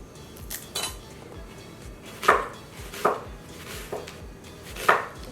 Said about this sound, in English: And I'm gonna thinly slice this onion.